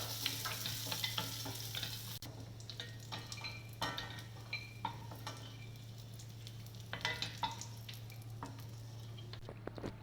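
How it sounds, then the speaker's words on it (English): Cashew nuts and raisins frying in hot ghee in a pan, a steady sizzle with scattered stirring clinks and scrapes and a constant low hum underneath. "To this, I am adding some cashew nuts. I'm adding some raisins."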